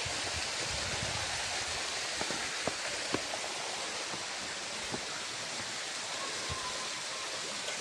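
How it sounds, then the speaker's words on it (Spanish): Cusarare waterfall in Copper Canyon roars as a steady, broad rush of falling water heard from the bottom of the falls, with faint scattered knocks and splashes over the constant wash. "aquí andamos en el mero, mero fondo de la cascada de Cusarare"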